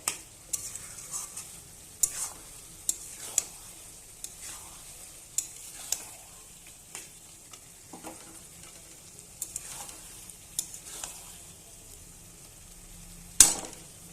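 Masala is stirred and fried in a pan, with a low, continuous sizzle broken by sharp, irregular spoon scrapes and taps against the metal.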